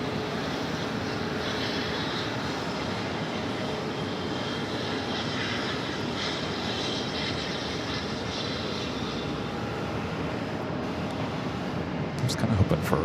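A Boeing 777's jet engines at New York JFK airport produce a steady, loud, broadband roar that holds evenly throughout, with a slight rise in intensity near the end.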